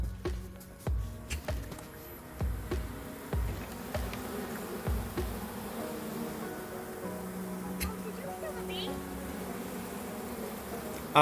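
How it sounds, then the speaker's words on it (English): A bee buzzes steadily close by on the ground, with scattered soft thumps and rustles in the first half. "I think there's a bee on the ground, and Church is trying to get it."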